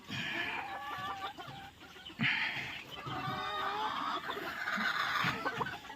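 A flock of chickens clucks and cackles continuously in the background, with scattered louder squawks and a low rumbling undertone.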